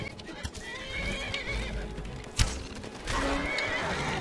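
Horse in the game Skyrim neighs and whinnies with clip-clop hoofbeats of galloping, a sharp hit near the middle, over steady game ambience and muffled combat.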